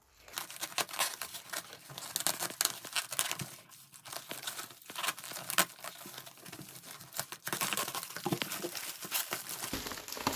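An envelope around a Pokémon box is cut open with scissors, giving close crinkling paper rustles and snips that run steadily from start to finish with no one speaking.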